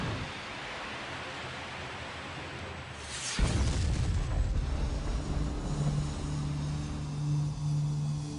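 A missile launch and the explosion that destroys a Korean Air 747 airliner: a low rumble builds, then a sudden loud blast erupts midway, followed by a sustained roaring burn and a steady drone.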